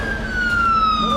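A wailing emergency siren in Kabul after an explosion sweeps downward in pitch, loud and continuous over a short stretch, with faint background noise beneath.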